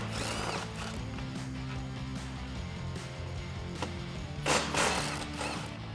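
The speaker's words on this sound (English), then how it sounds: "Grab a 16mm socket and get these removed." A socket ratchet turns bolts behind the license plate on a Jeep Gladiator JT, giving soft mechanical clicking and a short louder burst of rattling, all under steady background music.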